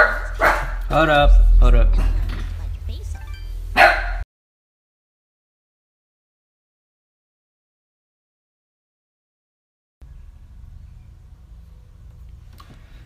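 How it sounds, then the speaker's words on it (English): A dog barks in the background, partly masked by a voice talking over it, with the barks coming early and then the sound dropping to silence and faint room noise. "My dog was barking at something else."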